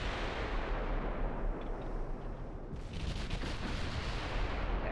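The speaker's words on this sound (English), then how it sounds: "we'll just fire till we're out of ammo because we are almost out" Naval guns on warships thunder in a continuous battle from the game Ultimate Admiral Dreadnoughts, a dense, rumbling barrage of overlapping booms with a sharper cluster of shots partway through and no talking.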